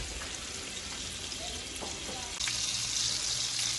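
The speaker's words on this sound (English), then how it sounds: "I'm gonna let that brown and then I'll come back when I flip them over" A first batch of oxtail sizzles as it browns in a pan, a steady close frying hiss that grows louder and brighter partway through, with no talking.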